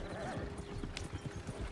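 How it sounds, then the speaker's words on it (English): Galloping horse hooves in Red Dead Redemption 2 clatter in a quick, steady rhythm under a continuous wash of movement noise, with faint speech-like sound mixed in. "Horses won't go this fast for long."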